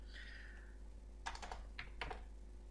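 Fingers type on a computer keyboard in a quiet room, first sparse then in two short bursts of clicking keystrokes, faint and close.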